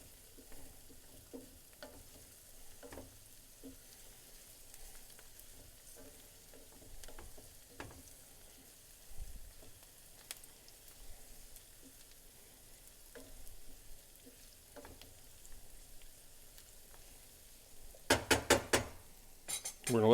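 Fragrant ingredients sizzle quietly in a pan while a utensil stirs them, making soft scrapes and clinks over a low, steady frying hiss, with a burst of louder clatter near the end.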